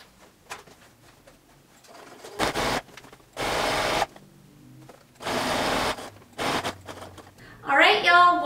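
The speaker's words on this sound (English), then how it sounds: "now then I can sew all the way back up the other side seam" A sewing machine stitching a camisole side seam, running in several bursts of steady whirring, each a second or so long, separated by short pauses and quieter handling sounds, with a voice briefly at the end.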